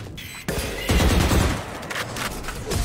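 Rapid automatic gunfire in a shooter video game, loud dense bursts of shots continuing back to back with no pauses.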